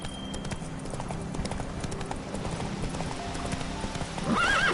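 Roach the horse gallops in The Witcher 3 video game: a steady, fairly close run of hoofbeats without pause, ending in a rising whinny in the last half second.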